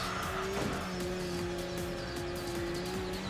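Race car engine drones steadily while braking hard and late in the video game Enthusia Professional Racing, with tire squeal and skidding layered over the continuous motor tone.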